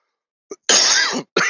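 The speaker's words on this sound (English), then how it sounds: "I just had a cough." A short throat sound, then a loud, rough cough lasting about half a second, followed by the start of another cough.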